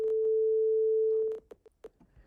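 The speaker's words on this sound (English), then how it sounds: "we know what the sound of a simple sine wave is" A simple synthesizer sine wave holds a steady, clean pure tone for over a second and then cuts off, followed by a few faint clicks and knocks.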